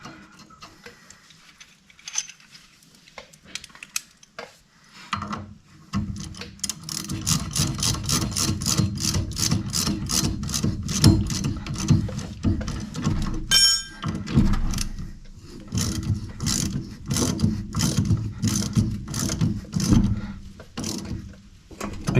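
A grub screw is run into the top of a VW trailing arm, giving a rapid, steady series of close metallic ticks and clicks after a quieter start, with a short sharp clink midway.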